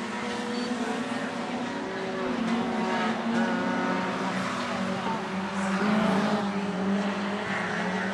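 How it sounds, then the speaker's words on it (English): Short track race cars circle during a late-race stretch, their engines droning loudly with rev limiters popping and cutting out, while a commentator talks over the steady roar. "Rev limiters coughing them up."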